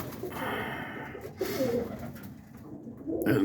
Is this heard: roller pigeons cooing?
yes